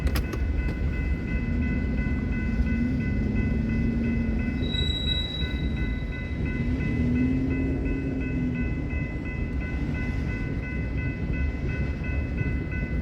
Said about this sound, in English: now let's come on over here and catch the rest of this BNSF manifest